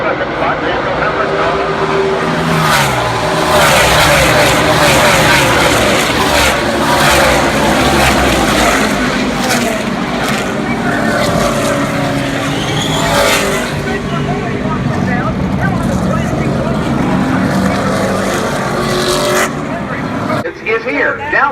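NASCAR race cars roar around a speedway in a dense, continuous engine drone with passing surges, loud throughout beneath an announcer's race commentary.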